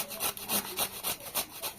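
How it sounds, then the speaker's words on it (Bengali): Taro (kochu) rubbed against a metal grater in a home kitchen, a steady back-and-forth rasp of about seven strokes in quick, even rhythm, close and fairly loud with no talk. "ঘষবো দেখো আরেকটা ঘষা হয়ে গেছে অলরেডি"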